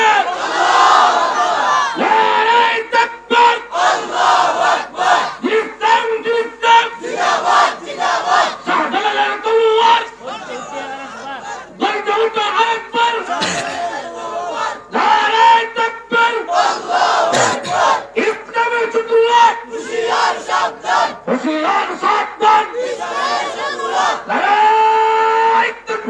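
A large crowd at a religious gathering roars the takbir together in loud, repeated chants, answering a preacher. The chants come in rhythmic surging waves that fill the space continuously.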